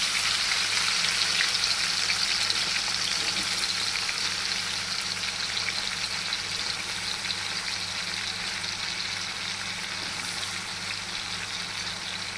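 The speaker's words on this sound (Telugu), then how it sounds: "ఆయిల్ వేడైంది. ఇప్పుడు ఈ వంకాయలు మనం కళాయిలో వేసేసుకోవాలి." Eggplant pieces fry in hot oil in a kadai, a steady, dense sizzle that stays loud and even throughout with no voices.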